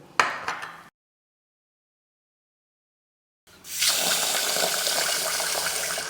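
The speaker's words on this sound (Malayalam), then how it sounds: "നമ്മളിത് വെളുത്ത വെള്ളം വരുന്നത് വരെ ഇത് കഴുകണം" Ragi grains are washed in water until it runs clear: a short splashing burst, then a silent pause, then a steady stream of running water pouring and filling.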